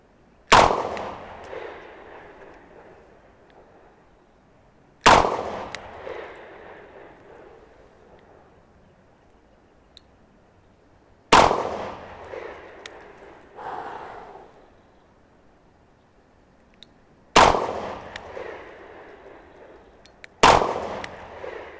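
Five sharp, loud shots from a short-barrel .38 revolver ring out at a shooting range, spaced several seconds apart, each followed by a decaying echo.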